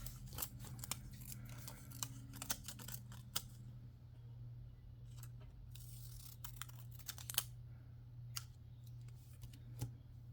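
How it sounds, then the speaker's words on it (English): Scissors snipping planner deco paper in half, a run of crisp close clicks and cuts followed by sparser snips and paper rustling, quiet with a low steady hum beneath. "Let's cut this in half."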